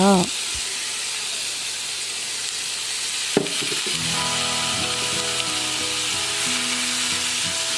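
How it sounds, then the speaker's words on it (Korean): Baby octopus stir-frying in a seasoned pan, a steady loud sizzle with a sharp clatter near the middle, then a hum under the frying. "꼴뚜기는 2, 3분 정도 볶는데요"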